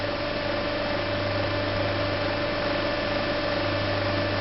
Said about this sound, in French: Voilà le fonctionnement de mon moteur.